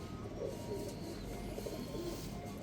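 Black Panther pigeons cooing, soft low murmuring coos repeating over a steady faint background hiss, fairly quiet and without speech.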